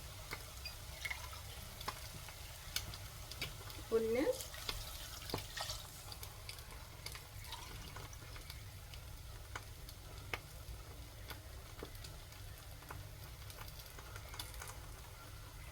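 Steady sizzling from a hot pot of mushroom biryani, with a brief splash and bubbling surge of added water near the start before settling into frying crackle.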